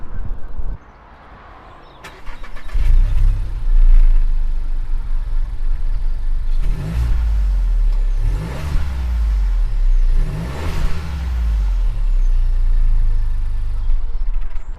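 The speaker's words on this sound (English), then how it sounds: "let's see how this 1-litre engine sounds" Volkswagen Polo 1-litre engine starts with a crank and catch, then idles before two clear rising revs and drops back to a steady idle, close and loud.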